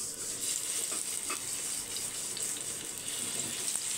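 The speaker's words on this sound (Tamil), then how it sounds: "மீனை வறுத்துக்கலாம்" Masala-coated fish frying on a flat iron dosa griddle, a steady close hiss and crackle of hot oil running unbroken throughout, with no voices.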